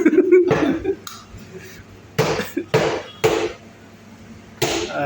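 Heavy chopping strikes on fish at a fish market: several loud, separate knocks in an uneven rhythm, close by, with market chatter and clatter between them.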